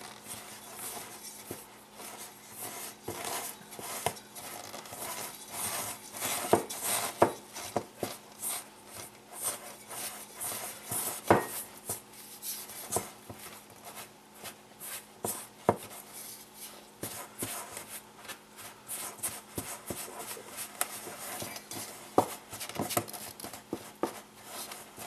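Simit dough ingredients being mixed in a bowl by hand, a continuous run of soft wet slaps, scrapes and taps with an irregular rhythm, close and fairly quiet, with no voices.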